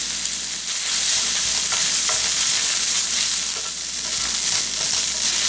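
Ground beef, drained of its fat and mixed with two tablespoons of tomato paste, being stirred in a pan for spaghetti lasagna, with a steady low sizzle and scraping utensil strokes throughout.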